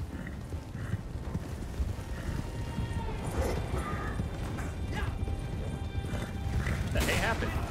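Horse hooves clop and gallop steadily in Red Dead Online, a continuous rhythmic beat under a game soundscape with a voice talking over it and a brighter burst near the end.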